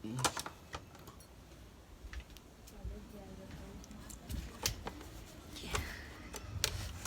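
Scissors snip with quick, light clicking cuts, quiet and close, scattered irregularly against faint room noise.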